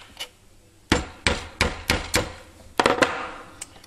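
A hammer flattens the tip of a metal pin like a rivet head on a homemade tool for pulling washing-machine drum crosspieces. Sharp, close hammer blows ring out, first in a spaced row of five, then a quick cluster of three, then a lighter tap.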